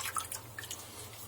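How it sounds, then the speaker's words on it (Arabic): Juice from half a lemon, squeezed by hand for a custard galash pastry, drips in a few quick, faint drops and small squishy splashes, close by and without talk. "بعصر نص ليمونة"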